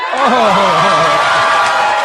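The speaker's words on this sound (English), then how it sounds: "And they cheering." A crowd at a political speech cheers loudly and continuously, with whoops and raised voices blending into a steady roar that fills the short moment.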